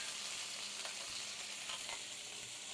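Steak sizzles in a pan with a steady, dense frying hiss and a few faint stirring clatters, close and moderately loud, with no talking.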